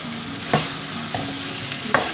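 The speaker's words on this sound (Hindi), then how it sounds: "अब इसको हम मिक्स करके हल्की आंच पे दम लगा देंगे" A spoon stirs achar gosht masala with okra in a pot over low heat, giving soft sizzling and a few light scraping knocks against the pot.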